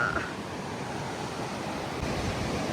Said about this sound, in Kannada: ನೋಡಿ, ಎಷ್ಟು ಫ್ಲೋ ಇದೆ ನೋಡಿ ನೀರು.